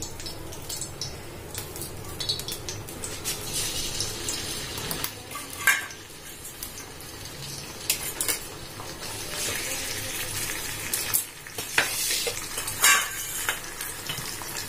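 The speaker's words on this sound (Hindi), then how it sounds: "तेल को काफी देर तक उबाल लें आप, 10-15 मिनट तक उबाल लें इसको तेल को" Chopped pieces boiling in coconut oil, a steady bubbling sizzle with watery stirring sounds and occasional louder clatters, close and continuous with no talking.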